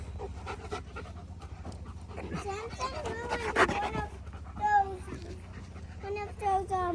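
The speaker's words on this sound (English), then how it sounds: "Here he comes. It's a puppy dog." A puppy dog pants with quick, rhythmic breaths close by in a backyard garden, mixed with a child's chatter and excited voices, and a few whimpers rise near the end.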